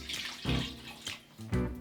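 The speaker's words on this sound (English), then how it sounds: "We're adding 2 cups of vegetable broth." Two cups of vegetable broth poured into a pan for a vegan onion gravy, heard as several short splashing pours in quick succession, close and fairly quiet.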